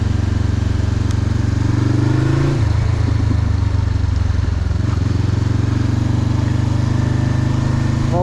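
Motorcycle engine on a winter ride in the rain, a loud steady drone close up with a shift in pitch partway through, no talk over it.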